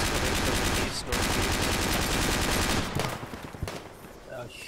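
Sustained automatic gunfire from a firefight in the tactical shooter Project Reality, loud and continuous rapid bursts for about three seconds, then sparser shots tapering off with a faint voice underneath.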